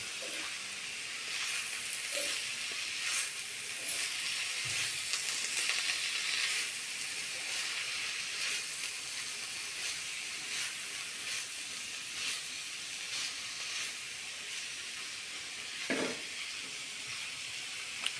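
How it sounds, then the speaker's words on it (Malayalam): Sautéed onions and tomato for a chammanthi chutney sizzle steadily in a pan while being stirred, with a continuous soft hiss and occasional faint scrapes and knocks from the spoon. "ഇനി നമുക്ക് അതിലേക്ക് തക്കാളി ആഡ് ചെയ്യുന്നതാണ്. നമുക്ക് നന്നായി ഒന്ന് ഇളക്കി കൊടുക്കാം."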